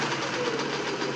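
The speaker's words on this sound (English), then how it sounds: "a straight stitch. And it's a fairly long stitch," Singer 600E sewing machine running a long straight stitch, a steady continuous mechanical whir and rapid needle clatter held at an even level throughout, close and alone with no voices.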